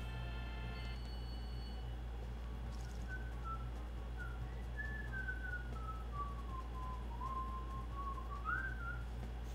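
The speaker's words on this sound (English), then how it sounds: "I'm whistling a song" A person whistles a slow, wandering tune resembling the after-race music from Mario Kart 8 on the Wii U, faint and alone over a steady low hum.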